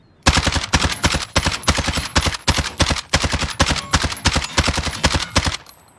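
Rapid automatic gunfire in a video game, fired while aiming down sights: a loud run of roughly two dozen sharp, evenly spaced shots over several seconds, with no talk over it.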